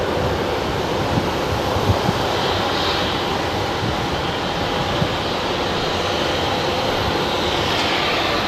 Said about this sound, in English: Let's film this Southwest. It's taxiing.